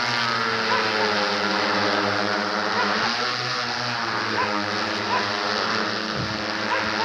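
An agricultural spraying drone flies over farmland, giving a steady, droning motor buzz with a strong harmonic whine that holds fairly loud and even throughout, dipping briefly only once or twice.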